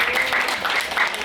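A seminar audience at an Islamic event gives the speaker a short burst of dense applause, loud and continuous from start to finish.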